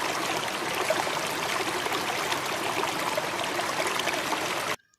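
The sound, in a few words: flowing water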